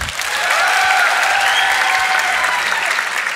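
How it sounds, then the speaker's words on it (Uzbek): A crowd claps steadily and loudly for a few seconds, a dense, even burst of applause with no voices over it. "bitta qarsakinglar bo'lsin"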